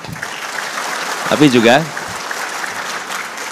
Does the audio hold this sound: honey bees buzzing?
no